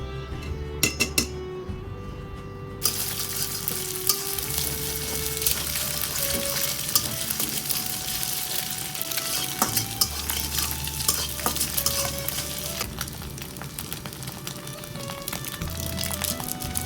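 Noodles sizzle in a home pan while a utensil stirs them, with frequent scraping and clanking against the metal over a constant frying hiss, close and fairly loud.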